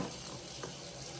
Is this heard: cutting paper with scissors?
no